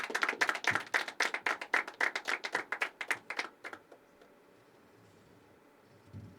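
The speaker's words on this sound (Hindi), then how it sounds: "कपिल जी का एक बार जोरदार तालियों के साथ स्वागत" An audience at a poetry open mic claps to welcome a performer on stage, loud rapid hand claps for about four seconds that stop abruptly, leaving quiet room tone.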